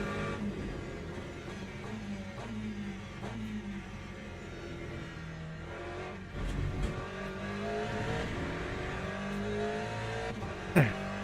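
Hypercar race cars lap a wet Monza circuit in the Le Mans Ultimate racing game. A steady engine drone climbs and drops through gear changes, with a short sharp click near the end.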